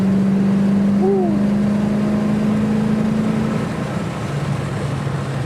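A vintage Ford Mustang pulls up to highway speed, its engine drone holding steady and loud for several seconds, with a brief rising whine early on before the note drops slightly lower near the end.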